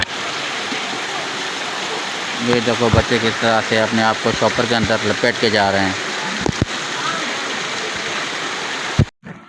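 Heavy rain pours down on a Lahore street with running water, a steady broadband downpour lasting throughout while someone talks over it in the middle.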